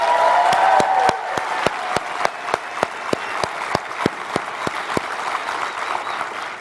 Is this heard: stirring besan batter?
no